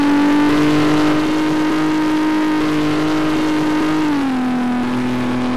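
Volvo 940 car engine while driving in Garry's Mod, a loud steady hum that holds a constant pitch, then drops slightly lower near the end as the car shifts or eases off, with no voices.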